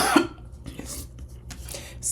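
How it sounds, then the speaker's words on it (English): A single sharp human cough near the start, close and fairly loud, followed by quiet room tone and faint breathy sounds with no talking. "I had to cough."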